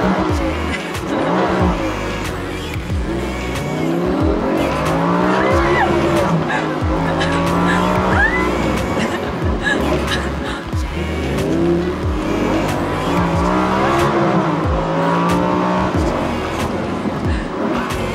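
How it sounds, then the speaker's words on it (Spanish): Lamborghini sports car driving with a loud, steady engine drone and tire squeal throughout, close and continuous, with some talk faintly mixed in. "¿Sabías que el Lamborghini es mi carro favorito?"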